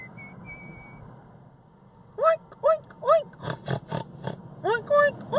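A human voice imitates a pig, giving a quick run of about eight short nasal oinks after a quiet start, close and fairly loud.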